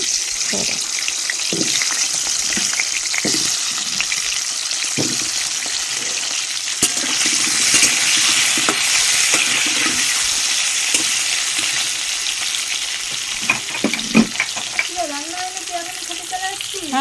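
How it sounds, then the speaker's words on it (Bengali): Potatoes fry in hot oil in a home kitchen, a steady, loud sizzle that runs throughout, with occasional utensil clinks and splashy stirring and a brief voice near the end. "ওই আলুগুলো ছেড়ে দেও তো এই গরম তেলের ভেতরে"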